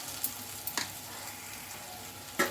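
Spices being stirred into okra pulusu in a pan, a soft continuous sizzle broken by a few sharp scraping clicks of the spoon against the pan, close up with no talking.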